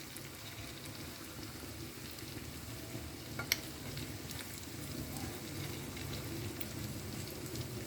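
Spicy seer fish (vanjaram) shallow-fries in oil, producing a continuous even sizzle like light rain, with one brief clink in the middle and no voices.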